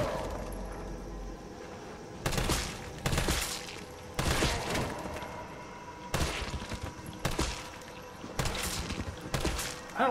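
Gunfire in Resident Evil 3, loud bursts of shots that come in clusters separated by quieter pauses of game ambience across the stretch.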